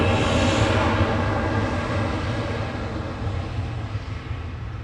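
An EasyJet Airbus A320 departing Manchester Airport for Oslo, heard as a broad, loud jet roar that fades gradually as it moves away.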